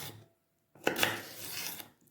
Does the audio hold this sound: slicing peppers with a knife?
yes